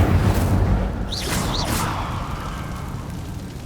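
Incendio fire spell cast in Hogwarts Legacy inside a cave: a short burst of whooshing, crackling flame effects with bright swooping tones lasts about a second, over a steady low ambient rumble.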